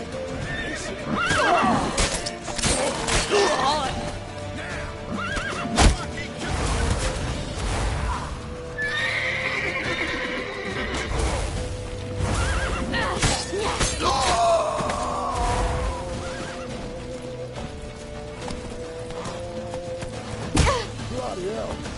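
A horse neighs and whinnies in a PlayStation 4 video game, with clip-clopping hooves, thuds and shattering effects, while players shout and talk over the action.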